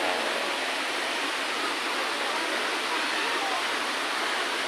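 Bolinao Falls in Pangasinan roars as a dense, constant rush of falling water, loud and close, filling the whole moment without letup.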